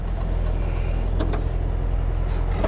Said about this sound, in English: Big truck.